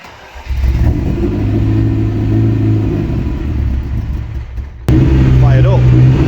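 Ferrari 328 GTS garage find under rebuild, engine cranked with a screwdriver and firing up into a loud, steady idle, which briefly cuts out before catching again close by; a voice talks over it.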